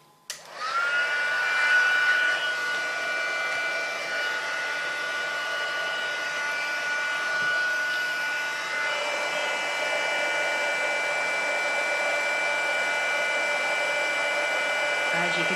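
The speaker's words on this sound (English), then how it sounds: "Bring in the heat gun again." A heat gun blows steadily to melt gold embossing powder on a stamped card for a gift box, a loud continuous whooshing hiss with a faint whine that holds for about fifteen seconds after a quick start.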